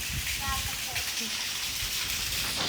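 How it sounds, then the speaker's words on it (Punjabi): Rain falls outdoors with a steady, even patter and wash throughout, under a person talking. "ਦੇਖੋ ਤੁਹਾਨੂੰ ਦੱਸਿਆ ਸੀ ਨਾ ਮੀਂਹ ਆ ਜਾਊਗਾ ਦੇਖੋ ਮੀਂਹ ਆ ਗਿਆ ਜੀ"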